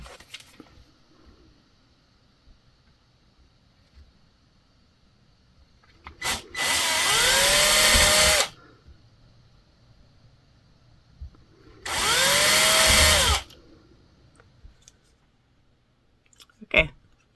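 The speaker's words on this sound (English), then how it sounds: "Okay, the holes are drilled so that I can get the saw blade through the pickguard." A hand drill boring small holes in the crossbar of a saw frame, heard as two separate bursts of steady, whirring grinding a few seconds each, close and loud against a quiet room, with a small click near the end.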